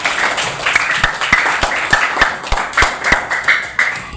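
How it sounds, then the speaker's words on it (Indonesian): A small school discussion group applauds, with loose, uneven claps from a handful of people, close and fairly light. "Luar biasa, tepuk tangan dulu."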